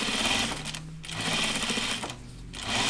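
Sewing machine understitching a seam on a kimono or shirt dress, running in steady bursts with two short pauses, close and fairly loud.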